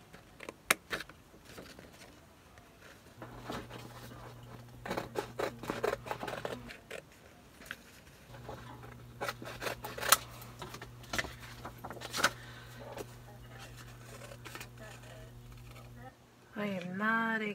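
Scissors snip steadily around a paper shape for a craft using shower curtain rings, giving close, quiet clicks and crisp cuts in irregular runs over a low background hum.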